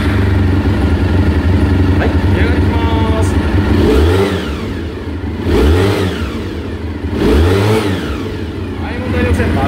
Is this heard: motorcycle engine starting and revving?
yes